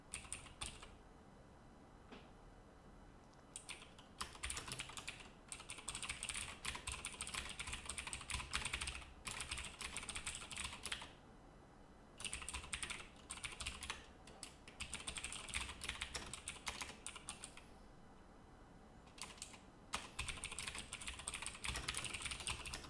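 Someone types on a computer keyboard while fixing a compiler bug, producing quiet, close clusters of rapid key clicks in bursts separated by short pauses, with no talking.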